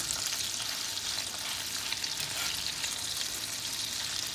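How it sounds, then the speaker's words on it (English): Venison burgers sizzle steadily in a hot frying pan as they are turned over, a loud, continuous crackling fry with no pauses and no talking. "So he's turning over his venison burgers now."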